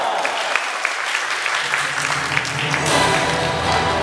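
Audience at a fan meet claps continuously, a dense and fairly even patter of many hands with a few louder individual claps, swelling slightly near the end.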